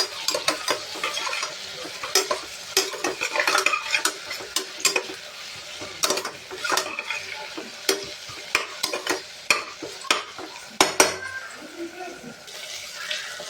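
Ingredients for mushroom biryani being sautéed in a pan: a continuous low sizzle runs under frequent scraping stirs and clicks of a spoon against metal, close up and busy throughout.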